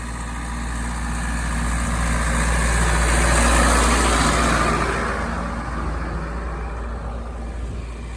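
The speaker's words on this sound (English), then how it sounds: "Tractor struggles up the road to Brimond Hill." A tractor engine labours up a steep hill road toward Brimmond Hill in December, a steady low rumble that swells louder toward the middle and eases off again, with no voices.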